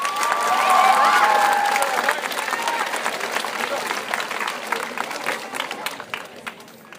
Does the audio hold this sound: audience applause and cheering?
yes